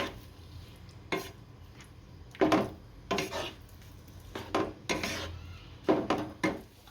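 A spoon scrapes and knocks against a pan as raw potato dough is stirred on the stove until stiff, giving a quiet sequence of irregular clatters and scrapes with no talking.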